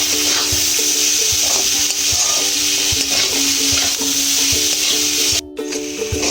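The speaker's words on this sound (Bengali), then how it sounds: "এবার একটু ভেজে নেবো আলুটা" Potato fries in oil with onion, green chilli, salt and turmeric, giving a loud steady sizzle close up, punctuated by regular scrapes of stirring, with no talking.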